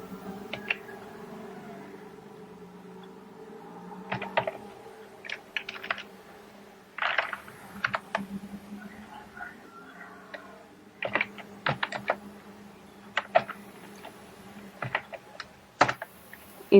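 Keystrokes on a computer keyboard come in scattered bursts and single taps, fairly close, over a quiet steady room hum with no talking.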